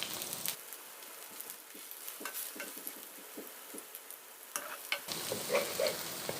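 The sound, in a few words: meat frying in pan for mung bean pancake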